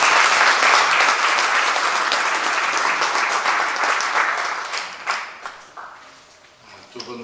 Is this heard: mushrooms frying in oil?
no